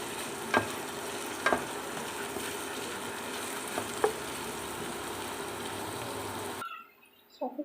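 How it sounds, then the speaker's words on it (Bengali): Green chillies stir-fry in a pan for khichuri with a soft, even sizzle and a few light spoon taps, then it cuts off abruptly near the end into near silence. "এখন এগুলোকে আমি ভালোভাবে একটু ভেজে নেব নেড়েচেড়ে।"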